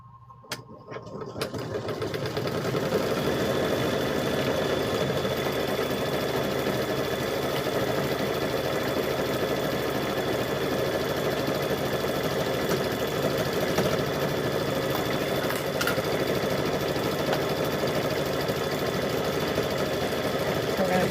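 A sewing machine stitching a quilted handbag, running as a steady, continuous mechanical whir close by after a brief start, with a faint voice under it.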